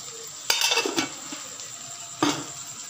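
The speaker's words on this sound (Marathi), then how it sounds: "आणि आपण टाकणार आहे थोडं शेंगदाणा कूट" Crushed peanut powder tipped into a pan of drumstick and potato curry, giving two brief sizzling, scraping bursts against a quiet kitchen background.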